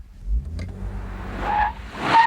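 A Toyota Solara with four-wheel disc brakes and anti-lock stops hard, tyres squealing in short high-pitched bursts over a low engine rumble, loud and close by.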